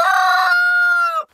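A cockerel crows nearby, one loud clear call lasting about a second and ending abruptly, heard alone in a backyard coop on a snowy day.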